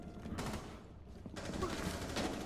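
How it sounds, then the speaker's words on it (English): Gunfire in Rainbow Six Siege, a few sharp shots and short bursts popping amid game ambience over a couple of seconds, fairly quiet overall. "I heard a shot from the back."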